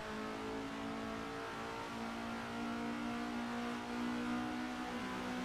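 Classic race cars, including a Jaguar E-Type, an MGB GT and a Mini, on a Nürburgring track day, a steady, sustained engine drone that swells slightly as the cars push on, heard from inside a car.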